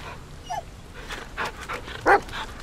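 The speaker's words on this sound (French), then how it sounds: "C'est le chien de Blair Witch." The Blair Witch dog in The Medium, a video game, whimpers and pants, then gives a short bark, over a quiet forest ambience.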